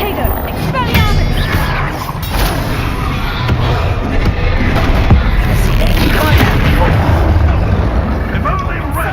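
Spell blasts and explosions from the Hogwarts Legacy video game, a dense continuous barrage of booms, crashes and magical bursts filling the whole stretch, loud and busy, with a voice calling out spell names over it.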